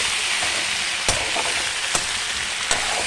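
Potato kondattam frying in oil: a dense, loud, close sizzle throughout, broken by three distinct stirring scrapes spaced roughly a second apart.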